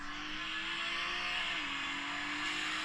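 A car circulates on the race track at Sandown, its engine a steady sustained drone with a single drop in pitch midway, heard from a distance with no talk over it.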